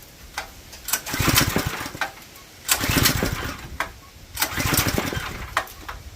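A lawn tractor converted to run on propane, its carburetor bowl partly filled with gasoline, cranks on full choke in three separate bursts of churning, sputtering engine noise with short pauses between them. Nearby and loud, with no talking.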